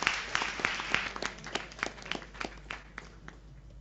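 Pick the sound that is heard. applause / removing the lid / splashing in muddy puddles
applause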